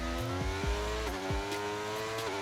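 Racing-game car engines rev up at the start of an F1 23 race at Silverstone, layered whining tones rising and dropping with quick gear shifts, loud and continuous with no talk.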